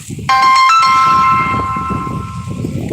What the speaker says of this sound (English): I should get a better ringtone